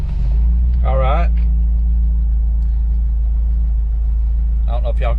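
A 1997 Jeep Wrangler with a Dana 30 front differential runs in four-wheel drive high, a steady low engine rumble heard from inside, with someone talking over it in short bursts.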